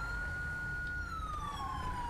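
Police car siren in the video game GTA V, a steady wailing tone gliding slowly downward over engine rumble, continuous and fairly close for two seconds.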